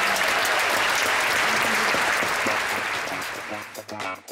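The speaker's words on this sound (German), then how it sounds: "Klatschen Sie nochmal kräftig in die Hände." Passengers aboard the cruise ship AIDAsol clap loudly in thanks during a welcome event, a dense roomful of applause that thins out and tapers off near the end.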